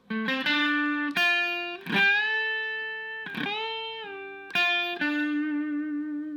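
A distorted electric guitar plays a short melodic lead phrase of sustained notes with slides and bends, ringing out through heavy effects, with no voices.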